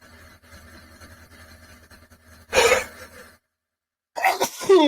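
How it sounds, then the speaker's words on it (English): Two sharp sneezes burst out in quick succession after a faint stretch of background noise, loud and close, separated by a brief silence. "Why did you sneeze in your poem like that?"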